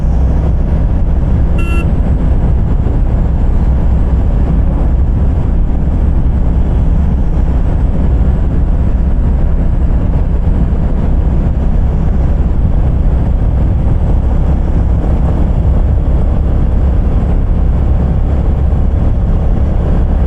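A 2025 Royal Enfield Classic 350 motorcycle rides along steadily, its engine a loud continuous drone with heavy wind rush that stays constant throughout and carries no talk.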